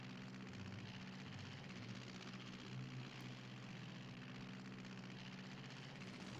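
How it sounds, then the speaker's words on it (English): Steady, dense drone of an airplane engine in the Scooby-Doo Unmasked video game, a continuous low rumble with hissing noise above it, fairly faint and unbroken, with no talking. "Why is there a plane in here?"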